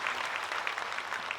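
A crowd at a Shiv Mahapuran katha gathering claps steadily to welcome a guest, producing a dense, continuous wash of applause with no voices over it.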